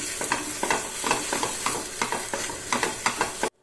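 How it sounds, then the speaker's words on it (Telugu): Mashed potato being stirred into a frying mixture, repeated scraping strokes in an even rhythm over a constant sizzle, close and fairly loud, cutting off abruptly at the end. "ఇందులో మనం ముందుగా ఉడికించి మ్యాష్ చేసి పెట్టుకున్న పొటాటోని యాడ్ చేసుకుంటున్నాం. బాగా మిక్స్ చేసుకుందాం"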